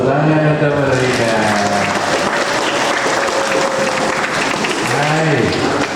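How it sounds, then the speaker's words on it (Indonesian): Congregation applauding during a jubilee opening Mass at a Catholic parish church in Biak, Papua, steady loud clapping throughout with a voice speaking over it at times. "Tepuk tangan untuk mereka."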